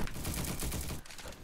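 Rapid gunfire from the video game Bad Business, a dense, continuous burst of shots that briefly drops off near the end before resuming, loud and close with no talk over it.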